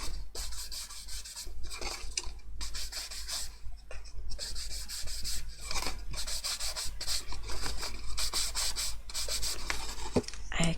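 A tool scrapes and drags repeatedly across scrap black paper to make a brushed texture, producing close, gritty rubbing strokes in irregular bursts with short gaps and a low hum underneath.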